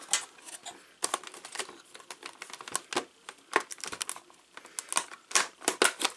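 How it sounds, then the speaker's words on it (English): Bottom of a Marvel Legends Spider-Man retro carded Rhino toy's cardboard box being cut: a steady run of crisp, close clicking snips and scrapes at an irregular quick rhythm, with no voice. "I try to cut the bottom of the box to pretty much taper it so I can attempt to reseal the package"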